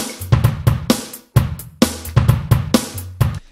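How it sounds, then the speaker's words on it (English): Unprocessed drum loop with sharp, punchy kick and snare hits in a steady groove, dry and close, with clear gaps between beats. "I have an unprocessed drum loop. It sounds like this."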